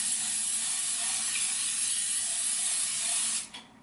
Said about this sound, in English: I'm going to spray this with some cooking spray